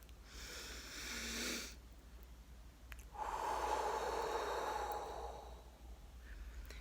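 Two slow, deep breaths heard close and alone, a broad airy inhale followed after a short pause by a longer, steady exhale, with no talking.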